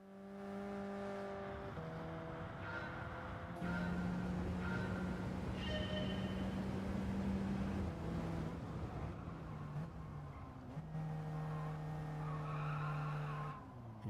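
Race car tires squeal and skid in a racing video game, the screeching rising and falling in several long slides over a steady engine drone, all fairly quiet and with no talking.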